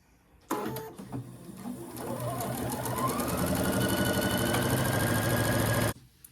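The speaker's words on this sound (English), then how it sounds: "And then I sew in succession to save thread." A sewing machine stitches a straight line corner to corner across black skull-print fabric for a rag quilt, a loud, steady, close whirring hum that speeds up and runs continuously for about five seconds before stopping abruptly.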